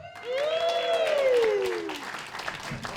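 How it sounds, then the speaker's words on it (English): Warm audience applause for stand-up comedian Drew Stearne at a Maidenhead comedy show, a steady wash of clapping swelling and then tapering over a few seconds, with a voice carrying over it. "Nice warm round of applause there."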